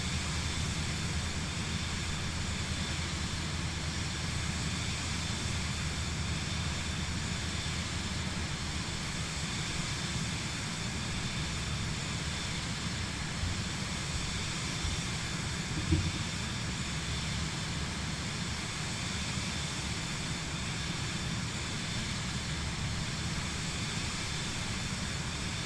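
Steady aircraft engine drone in Microsoft Flight Simulator 2024 during a takeoff roll in a crosswind, a continuous broadband roar with hiss held at an even level throughout, with no talking.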